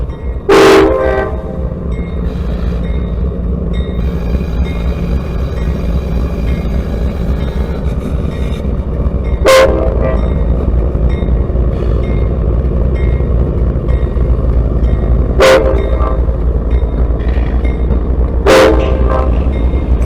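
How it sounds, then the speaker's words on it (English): CSX northbound freight train on the ANB line at Albany Avenue in Waycross, slowing down: a loud, steady rumble of rolling cars with several short, sharp horn blasts spread across the stretch. "this is actually a northbound train that was slowing down to pick up a conductor"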